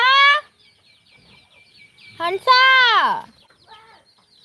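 Nearby chickens cluck and squawk in short bursts, with one drawn-out call; a voice speaks briefly.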